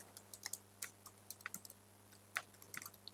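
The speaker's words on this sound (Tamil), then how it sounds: "சிம்பிளாக டைப் பண்ணிட்டேன் அந்த பர்டிகுலர் பாக்ஸ் உள்ள" Light, scattered keystrokes on a computer keyboard, irregular clicks spaced through a few seconds, quiet and close with no voice.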